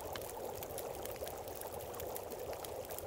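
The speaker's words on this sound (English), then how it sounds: "Let's drink a little bit of water." Continuous pouring, gurgling water as a character drinks in the survival game The Long Dark, steady and fairly faint with no break.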